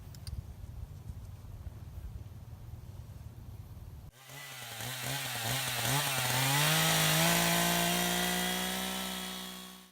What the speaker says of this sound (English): I should have taken time to sharpen my saw before beginning this project. It's quite dull.